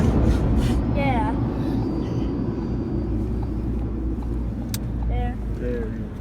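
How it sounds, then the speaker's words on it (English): High-pressure air dryers blast across a car at the end of a car wash, a loud, steady, broadband rushing roar heard from inside the vehicle while people talk excitedly over it. "It's not the engine, it's air. High pressure air to dry up the car."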